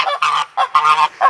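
A goose honks loudly and close by in a rapid series of about five harsh, nasal calls with short gaps between them.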